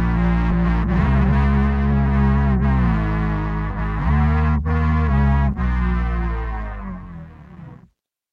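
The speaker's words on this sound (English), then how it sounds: "if I double that up and then put some distortion on it and then sing it an octave up" Doubled vocals pushed through heavy distortion and sung an octave up form a thick, buzzing sustained tone with layered harmonics, loud throughout before cutting off abruptly near the end.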